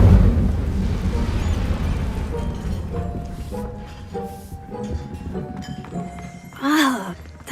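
Casting the Incendio fire spell in Hogwarts Legacy bursts out as a loud whooshing flare of flame, fading into crackling game sounds with musical tones, a low thud and a later rising swell.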